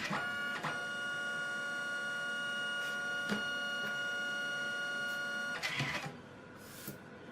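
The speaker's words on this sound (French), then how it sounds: "On allume l'imprimante." A Canon Selphy CP1300 compact photo printer runs with a steady mechanical whir, broken by a few soft clicks and a brief clatter near the end before it quiets slightly; no voices.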